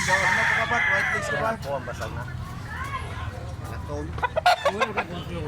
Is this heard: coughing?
no